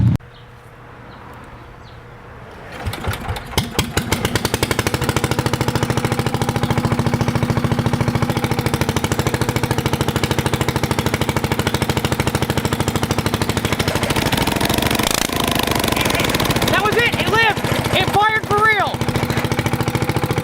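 A 1hp Briggs barn engine starts after a quiet, rumbling lead-in, then runs loud and steady at a constant idle with dense mechanical chatter. A few sputtering dips come near the end.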